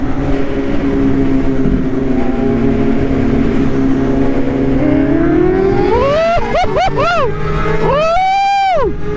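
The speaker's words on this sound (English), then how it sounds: "Got Jack right now about to race Warren G." Sport superbikes such as a Yamaha R1M, BMW S1000RR and Kawasaki ZX10R race from a start, engines droning then screaming through rapid rising revs and gear changes, loud and close.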